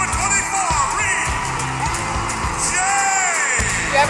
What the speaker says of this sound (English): this crowd yelling "Boosh" every time you do something